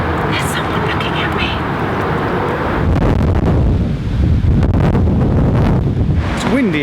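Wind gusts buffet the microphone outdoors in Leicester, a steady rushing roar that swells louder around the middle and end, heard alongside occasional talk.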